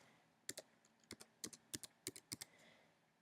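Computer keyboard being typed on in a quiet room, about a dozen light crisp clicks in short irregular bursts, close and soft.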